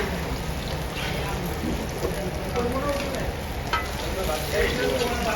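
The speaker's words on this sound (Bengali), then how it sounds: "সাথে আসছে বেগুন ভাজা।" Eggplant (brinjal) slices frying in a pan beside hilsa fish on a rainy night, a steady close crackling sizzle that runs the whole time with occasional louder spits and no voices.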